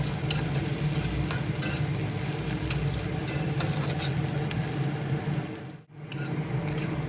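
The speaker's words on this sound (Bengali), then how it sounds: "ফোড়ন ও আদা রসুনের পেস্ট ভাজার সঙ্গে পেঁয়াজ কুচি ভালোভাবে নেড়ে চেড়ে সুন্দর সোনালি কালার করে" Chopped onions with ginger-garlic paste fry and get stirred in a pan of oil for a Katla fish curry, giving a steady close sizzle with scraping spoon strokes throughout, then a brief drop near the end.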